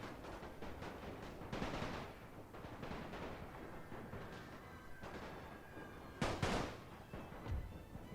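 Muffled battlefield gunfire rumbles from units fighting in The Great War strategy game, a dense, distant crackle of rifle and machine-gun volleys with a sharper burst near the end, low in level and without talking.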